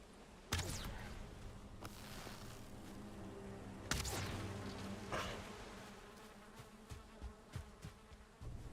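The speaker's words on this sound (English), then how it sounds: "I finally found bees" Bees buzz in Valheim, a steady, close insect drone with a few sharp knocks and thumps from the game over it, no talking.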